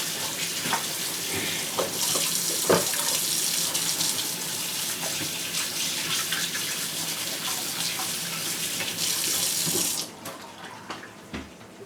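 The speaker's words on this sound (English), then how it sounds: "I'll wash my hand again." A tap runs steadily into a sink for about ten seconds while hands are washed, a loud continuous gush with small splashes and knocks, then the water cuts off, leaving a few faint clicks.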